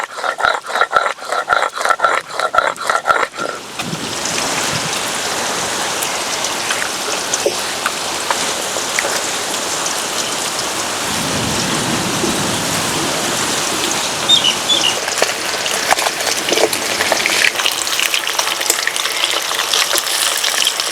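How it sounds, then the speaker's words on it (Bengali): Fish pieces for a yogurt-based katla fish curry fry lightly in hot oil in a wok, giving a steady, loud, continuous sizzle with no talking after a brief initial clatter. "বাকি মাছগুলো এভাবে হালকা করে ভেজে নেব।"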